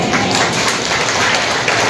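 A church congregation claps during a sermon, loud, dense and close, a sustained wash of many hands with a few sharper slaps.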